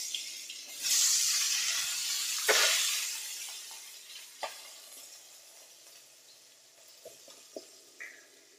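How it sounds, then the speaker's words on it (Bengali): Bay leaf, fenugreek, fennel seed, black cumin and chopped onion hitting hot oil, a loud burst of sizzling that swells twice and slowly fades, with a few sharp clinks and scrapes of stirring near the end. "এই এখন আমি তেজপাতা দিয়ে দিচ্ছি, মেথি মৌরি কালো জিরে, পেঁয়াজ কুচি দিলাম।"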